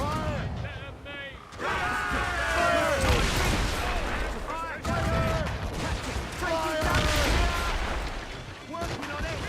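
Ship cannons fire in the naval combat of Assassin's Creed Rogue, booming in heavy volleys beneath shouting crew voices and swelling sea-battle music, with several blasts spread across the stretch.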